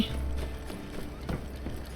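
Horse hooves clip-clop in the video game My Time at Sandrock, a few soft irregular thuds over a low steady background hum, fairly quiet and close, with no talk.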